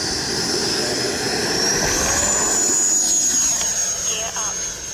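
An E-flite Viper 90mm RC jet throttles up for takeoff with a loud, steady ducted-fan whine that rises in pitch, heard close by while someone talks over it.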